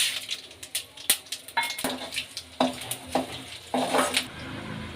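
Mustard seeds, chana dal and urad dal go into hot oil in a pan, a string of sharp clinks and rattles with short bursts of crackling sizzle, close and fairly quiet.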